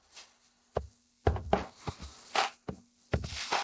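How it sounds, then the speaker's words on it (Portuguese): A spoon scoops popcorn kernels out of a container beside a Mach5 popcorn machine, giving several sharp knocks and rattles in an irregular rhythm, close and fairly loud, with short quiet gaps between. "Pode retirar o milho com a colher"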